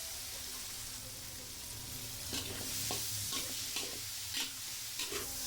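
Crumbled tofu sautés in a hot pan with a continuous sizzle, while a utensil stirs and scrapes through it in scattered clinks and shuffles, nearby and fairly loud.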